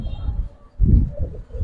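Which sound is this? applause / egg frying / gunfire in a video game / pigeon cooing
pigeon cooing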